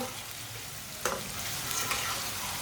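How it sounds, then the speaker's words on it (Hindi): Okra roasting in a pan for egg okra, a steady broadband sizzle with light stirring scrapes and a small clatter about a second in. "3 मिनट के लिए रोस्ट कर लेंगे, इसे भून लेंगे"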